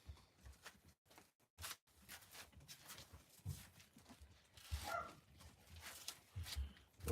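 A dog barks upstairs in a house, the muffled, fairly distant barks coming in scattered bursts over quiet background noise and faint household sounds.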